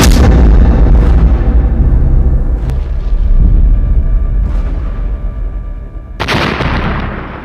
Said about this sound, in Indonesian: tembakan ketiga HRMS Everston tepat mengenai anjungan RI Macan Tutul yang mengakibatkan ledakan hebat